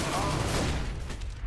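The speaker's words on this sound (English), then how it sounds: "I'm throwing a flashbang!" A flashbang grenade goes off in CS:GO, a loud dense burst with a hissing, ringing tail that stays strong for over a second before thinning out.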